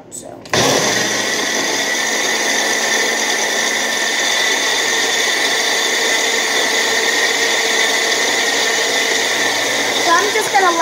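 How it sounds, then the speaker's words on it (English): A blender whirs loudly as it blends a drink at home, kicking on abruptly after a brief pause and running at a constant high-pitched drone, with a slight shift near the end. "So I'm just gonna let it blend by itself."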